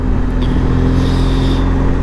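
A car drives past near a tram line in Maribyrnong, Victoria, Australia, its steady engine hum and tire roar loud and close, with no talk over it.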